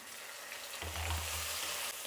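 Onions, garlic, curry leaves and tomato fry in a pan for a brinjal curry, a close, steady hiss that swells midway as a low thud and stirring scrape join in.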